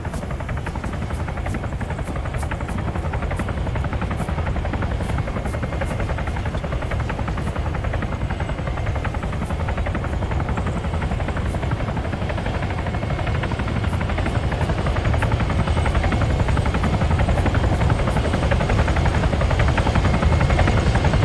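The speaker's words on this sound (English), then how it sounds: "That's ours. That's our chopper." Military helicopter arriving for an extraction in a video game, a loud continuous rotor thump and turbine roar, close and steady throughout, swelling slightly toward the end.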